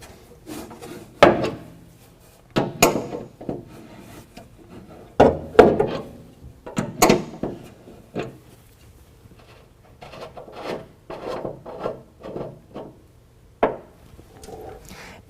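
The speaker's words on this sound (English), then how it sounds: "I'm just going to use a crescent wrench." A crescent wrench loosens a threaded fuel fitting sealed with thread sealer on a bed-mount fuel and toolbox combo. Close, irregular metallic scrapes and rasping clicks come in short bursts with quiet gaps between them, and no speech.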